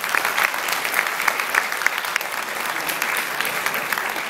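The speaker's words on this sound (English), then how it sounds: "A round of applause for him." A club meeting audience applauds its club president, a moderately loud crowd of clapping hands with a few sharper individual claps standing out, continuing steadily throughout.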